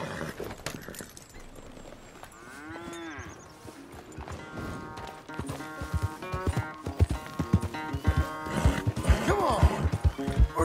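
Horse hooves clip-clop while riding in Red Dead Redemption 2, with an uneven beat that grows louder and busier toward the end, and cattle lowing and other farm sounds mixed in.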